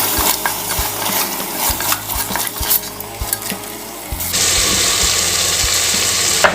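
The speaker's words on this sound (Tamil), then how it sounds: "இப்போ பார்த்தீங்கன்னா தயிர் உள்ள சேர்த்து நல்லா மிக்ஸ் பண்ணி கொடுத்துட்டேன்" A spoon scrapes and taps rhythmically through mutton head curry with yogurt in a sizzling pan. The frying hiss is loud and close, and a sharper sizzle swells in the final seconds.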